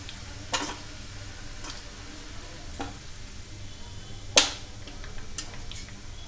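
Red chillies crackling softly in hot oil in a pan while being stirred, with a few sharp clicks and taps of the spoon against the pan over a low steady sizzle.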